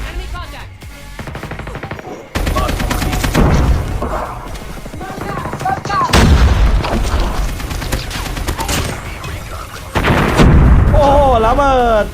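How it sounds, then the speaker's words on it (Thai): Repeated booming blasts and bursts of gunfire from Call of Duty Mobile, loud and layered under excited talking. "ระเบิดอีก"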